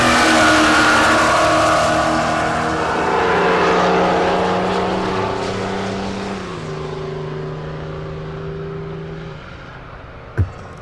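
A silver BMW and another drag car launch down the strip at Tulsa Raceway Park, engines roaring loudly and then droning steadily as they pull away and fade, with a sharp bang near the end.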